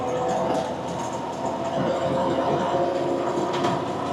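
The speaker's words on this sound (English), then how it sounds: "it's a little rattly. The canvas top makes a little bit of noise." A 1978 Toyota FJ44 Land Cruiser with a canvas top cruising along a street, a steady broadband rumble of road and engine noise with a rattling, rushing texture, constant and uninterrupted throughout.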